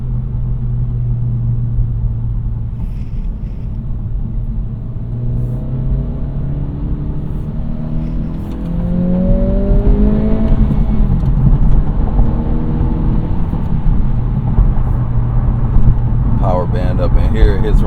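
Honda Integra engine revving up to roughly 3,500–4,000 RPM during a night drive, a steady droning rumble that climbs in pitch as it accelerates, heard from inside the car, close and loud.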